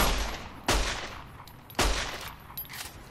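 Two sharp, loud gunshots from a firearm in the video game Fallout: New Vegas, roughly a second apart, each followed by a decaying echo and a few faint clicks and shuffles.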